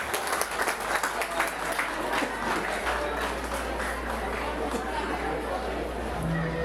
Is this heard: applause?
yes